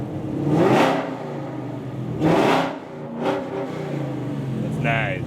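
A Camaro ZL1 or Hellcat V8 with dual exhaust is blipped three times, each rev swelling loud and throaty before dropping back to a rumbling idle close by.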